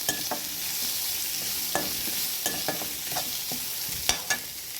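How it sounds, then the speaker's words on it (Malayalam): Cashew nuts being sautéed with onions and curry leaves in a pan give a steady soft sizzle, punctuated by several sharp scraping clicks of a spoon stirring against the pan, close and without any talk. "അതിനകത്തോട്ട് തന്നെ ഞാൻ കാഷ്യൂ നട്ട്സും അങ്ങോട്ട് ഇടുവാണ്"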